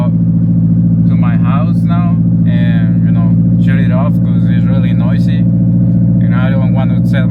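A broken daily-driver car's engine runs loud and rough, a steady low droning rumble throughout, with someone talking over it.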